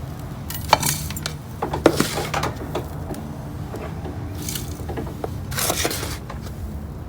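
Potting soil is scooped and poured into a plant pot for an Echeveria agavoides succulent, giving soft rustling pours with a few clinks and taps of the pot, close and fairly quiet.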